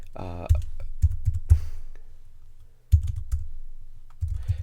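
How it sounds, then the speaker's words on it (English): Typing on a New Trent IMP38B Airbender keyboard case, a few bursts of soft key clicks in quick runs separated by short pauses, close and fairly quiet with no talk. "I'm just typing away."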